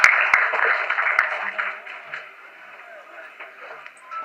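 Audience applause at a film press meet in a hall, heard as a steady patter of clapping that starts fairly loud and slowly fades over a few seconds, with a few sharper claps.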